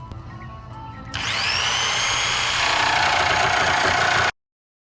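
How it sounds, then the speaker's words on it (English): An electric jigsaw plugged into house power starts abruptly and cuts through a gate with a loud, steady whining buzz for about three seconds, then stops dead. "Got my jigsaw plugged in to the house."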